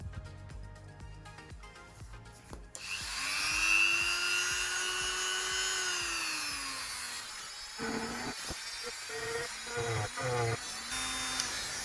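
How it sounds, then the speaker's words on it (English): A Dremel rotary tool whines up to a high, loud spin and holds steady while cutting a hole on a 2018 Subaru BRZ tS, then the pitch dips and surges in short bursts under the load. "first thing I'll do using the Dremel is outline the actual area which I want to cut"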